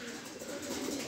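Colored pigeons coo softly in an aviary, a low murmuring call heard faintly over steady background noise.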